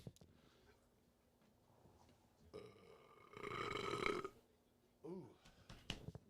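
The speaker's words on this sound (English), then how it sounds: "That's a heartburn burp right there." A long, rumbling heartburn burp swells loud and close for about a second amid quiet room sound, followed by a shorter voiced grunt, with people talking faintly around it.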